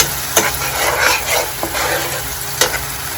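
Masala and chicken, liver and drumsticks, fry in oil in a pan with a steady sizzle, and a few sharp spoon scrapes and taps come as the mixture is stirred.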